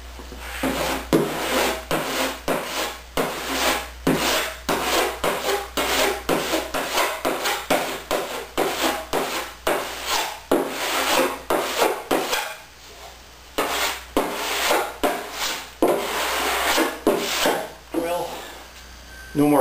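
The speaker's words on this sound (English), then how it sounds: "I finish sanding it down." Steady back-and-forth rasping of hand sanding on faired tape seams over wood, rhythmic strokes repeating throughout with brief pauses, close and fairly loud.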